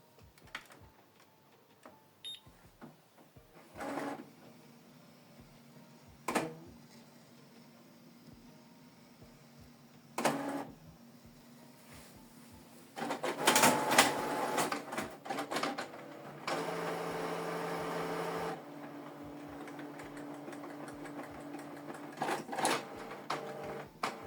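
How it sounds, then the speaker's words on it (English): Mechanical clicks and short whirring bursts from a Canon Pixma G3590 inkjet printer starting up, with louder motor runs midway and a steady hum toward the end. "Switch the printer on from this button."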